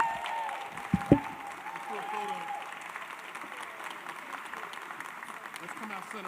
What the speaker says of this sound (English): Let's give her a real big round of applause.